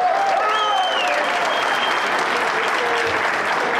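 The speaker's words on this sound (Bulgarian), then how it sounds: "Моля вашите силни аплодисменти за Светлозар Савов от Русе." Dense, steady applause from an audience at the Ruse Fight Night 3 MMA event fills the hall, loud and continuous throughout, with an announcer's voice briefly heard at the start.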